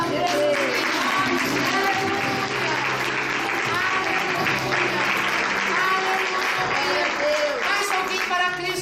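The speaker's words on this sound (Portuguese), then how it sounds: "Uma salva de palmas." A church congregation applauds steadily for the full stretch at an evangelical service, the dense clapping mixed with singing or raised voices over a held musical tone.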